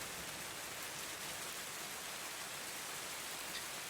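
Steady rain falls in a broad, even hiss with no breaks, heard alone and close, during a fantasy role-play tabletop game scene of competitors sheltering in the rain.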